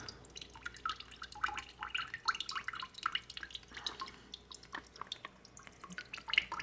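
Water drips and trickles from a waterlogged Dollar Tree Bluetooth speaker, a quiet, irregular patter of small droplets and splashes close by with no talk.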